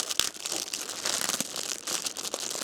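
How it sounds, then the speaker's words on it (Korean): A thick plastic kimchi-making vinyl sheet, about 3.6 by 5 metres, is spread out over a campsite floor, crinkling and crumpling loudly and steadily throughout, with a sharp crackle near the start. "비닐 첫 번째 작업은 이거 비닐 깔 거예요"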